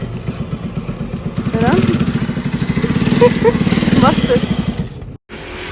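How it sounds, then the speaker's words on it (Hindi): A motorcycle is parked and then started, its engine running in a steady, fast chugging idle close by for several seconds before cutting off briefly, while people talk over it. "बाइक स्टार्ट कर रहा है"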